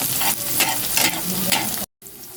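Bagoong with tilapia is stirred and sautéed in a hot pan: a close, loud frying sizzle with a few rhythmic scraping stir strokes, then a brief cut to quieter sizzling.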